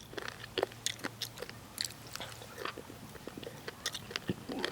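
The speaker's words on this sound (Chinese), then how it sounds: "其实我很喜欢吃脆骨的，就喜欢那种嚼劲" Crunchy pork rib cartilage from sweet and sour ribs is chewed up close, with a steady run of sharp bites and crackling crunches and no talking.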